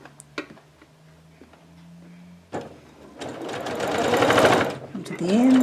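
A sewing machine stitches the seams of a bag while boxing its corners, starting after some quiet handling clicks and a voice, then running in a fast, steady rhythmic whir that builds to a loud, close burst before stopping.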